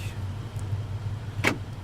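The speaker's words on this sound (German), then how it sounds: "Wagen abschließen wäre noch wichtig." A car in the video game Altis Life being locked gives a single short electronic chirp near the end, heard alone over a steady low hum.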